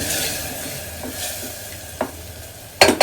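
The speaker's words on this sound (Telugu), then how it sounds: "ఒక అరకప్పు వరకు పెరుగు వేసేసుకుందాం ఇప్పుడు ఒకసారి కలుపుతున్నాం" A spoon stirs yogurt into chicken curry sizzling in a pan, giving a steady frying hiss with a few soft scrapes and a sharp clink near the end, close and without talk.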